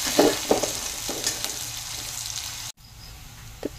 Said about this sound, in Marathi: कांदा घालूया, कांदा छान असा परतून घ्यायचा आहे